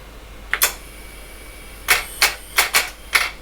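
An HP 9830A calculator's tape drive loading a program, giving sharp mechanical clicks and clacks: a close pair, a pause, then five quick evenly spaced ones.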